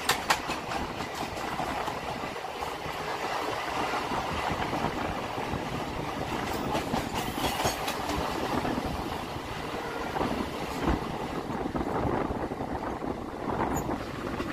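A suburban train out of Sealdah runs on track with a faint, steady rumble and scattered clacks from the wheels, continuous and fairly quiet throughout.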